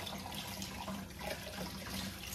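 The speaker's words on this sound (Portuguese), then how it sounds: "deixa eu lavar a louça até eu dar o horário" Cold tap water runs into a kitchen sink while dishes are washed: a steady, moderately quiet hiss and splash with faint clinks, continuous and without talk.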